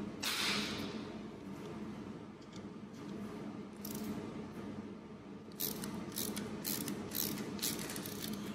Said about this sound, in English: my ratchet, when I use this ratchet